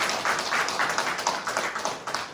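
Church congregation clapping to welcome a returning member, a dense, steady patter of many hands from a crowd at moderate distance.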